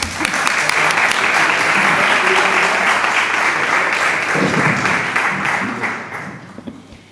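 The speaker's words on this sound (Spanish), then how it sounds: "un fuerte y cálido aplauso para los dos" Warm audience applause at a poetry book presentation, a full room clapping loudly and steadily for several seconds before thinning out near the end.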